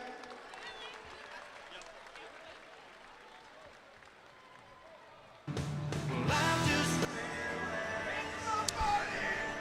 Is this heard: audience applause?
yes